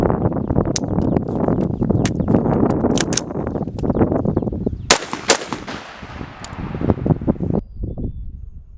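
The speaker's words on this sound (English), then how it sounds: "get a click instead of the boom, bring your rifle up, tap and rack, and then follow up with 2 shots" Rifle gunshots during a tap-and-rack shooting drill, a dense run of sharp, loud cracks and booms across several seconds, close and outdoors, with no speech.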